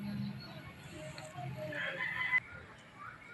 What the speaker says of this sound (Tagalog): Yan ang dalawa kong ibon na alaga